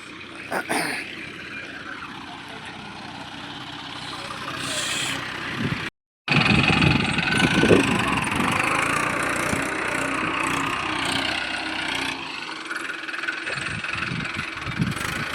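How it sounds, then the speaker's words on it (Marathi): A tractor engine drones steadily while levelling a farm field at night, a continuous mid-pitched rumble that briefly cuts out and resumes, with people talking over it. "तिकडं पण बघा कसा ट्रॅक्टर चालू आहे आपला"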